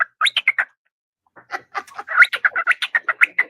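A pet bird calls close by in short bright chirps and whistles, a quick burst, a pause, then a longer rapid run of sharp tweets.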